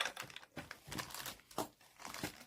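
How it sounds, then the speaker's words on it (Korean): A plastic thread package from a Cinnamoroll sewing kit is torn open up close, producing a few quick crinkling rips and rustles in short bursts with brief pauses between them. "실을 한번 뜯어볼게요."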